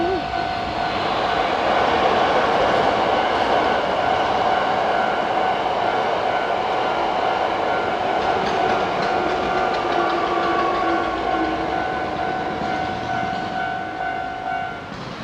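A train passes at Shin-Osaka station in Japan, a loud steady rumble with tonal whine and horn-like sustained tones lasting throughout, close by with no talking.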